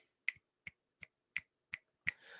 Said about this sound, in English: Finger snaps, chat.